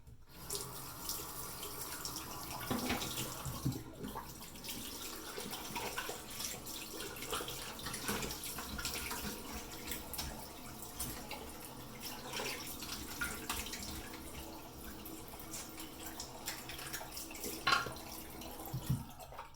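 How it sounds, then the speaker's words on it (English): Cold tap water runs steadily into a sink while a razor is rinsed, nearly twenty seconds of continuous close splashing with occasional louder spatters and no talking. "We're gonna rinse off her real quick. Cold water."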